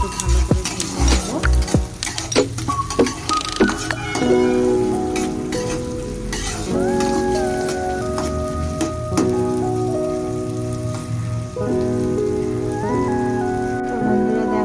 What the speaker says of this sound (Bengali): পেঁয়াজ কুচি, একটু ভালো করে ভেজে নেব।